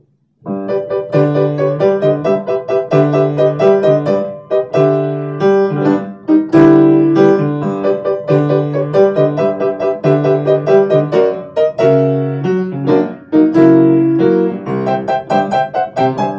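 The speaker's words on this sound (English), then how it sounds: "The whole melody, however, for anyone who is interested, sounds like this." A quirky bossa nova tune, the Doctor Puppet theme, plays its full melody over bouncing rhythmic chords and bass, steady, bright and fairly loud from start to finish with no voices.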